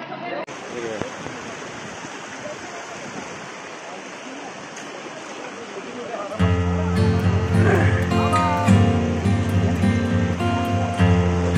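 River water flows in a steady, broad rushing wash near the Kondane caves, continuous throughout, joined in the second half by louder music and voices over the flow.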